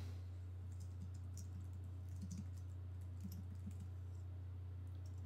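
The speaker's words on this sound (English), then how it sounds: "I'm going to go ahead and click underneath it where it says Untitled Event and just type in Melinda and Greg's wedding." Keys on a computer keyboard are tapped in short, quiet bursts over a steady low electrical hum, faint and close, as an event name is typed.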